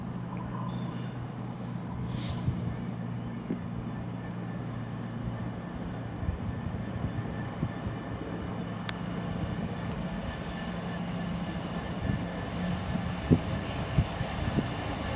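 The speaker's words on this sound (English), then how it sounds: "I'm going to say he's going through the slow line, platform 5." A train rumbles through the slow line platform at Nuneaton on the West Coast Main Line, a steady low roar of wagons rolling past with occasional clanks and squeals, fairly close and continuous.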